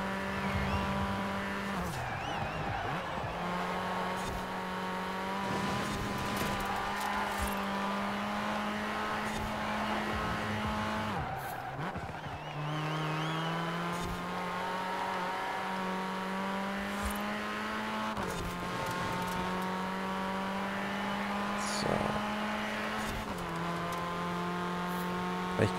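In the racing game Forza Horizon 4, a Mini's engine hums steadily and shifts pitch as the car is driven hard through corners, with brief tire noise at times and no voices heard.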